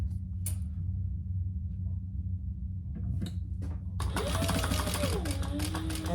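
Sewing machine running a stitch line on a hip bag, a quick mechanical whir that starts up near the end after some soft handling clicks and a brief quiet stretch.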